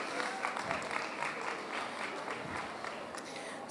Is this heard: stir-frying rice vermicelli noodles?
no